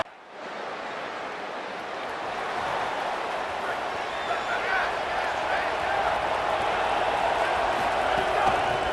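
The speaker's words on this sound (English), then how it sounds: "No fall off from the noise or intensity from this crowd as we start the fourth quarter." A dense, steady stadium roar from a packed crowd in College Football 27, holding loud and constant without a break as the fourth quarter starts.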